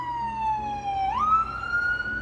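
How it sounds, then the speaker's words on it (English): An ambulance siren wails past, a single tone that sweeps down and then jumps up again, moderately loud and alone with no talking. "there was an ambulance rushing by"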